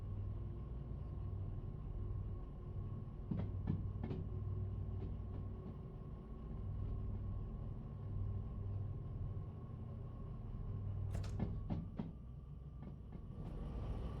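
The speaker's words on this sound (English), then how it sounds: "This is going to be a very short train." A short train in the Derail Valley video game rolls with a low, steady rumble and drone. A few faint clicks and knocks stand out over it.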